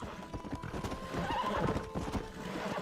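A horse in Red Dead Redemption on Xbox Series S gallops with rapid rhythmic hoofbeats, then lets out a whinny, close and fairly loud, with faint background talk.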